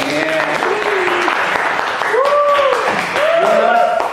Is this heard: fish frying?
no